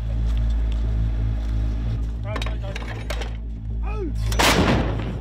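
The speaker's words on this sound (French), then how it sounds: "Il y a eu une première salve de tirs d'artillerie" An artillery salvo rumbles under a steady low engine drone during a military operation in Mali, with sharp blasts and a heavy, close report near the end.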